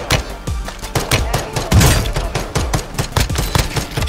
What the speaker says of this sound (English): I'm going to have to rely on my pistol for the first few kills here